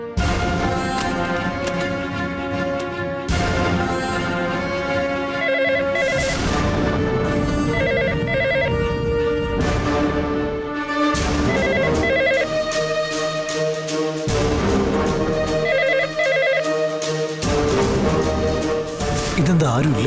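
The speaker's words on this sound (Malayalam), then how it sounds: "വീട്ടിലെ ഫോണിൽ നിന്നാണല്ലോ കോൾ വന്നിരിക്കുന്നത്" A phone rings with a melodic ringtone for an incoming call from a home landline, its repeating phrases cycling for about twenty seconds against loud, busy background music.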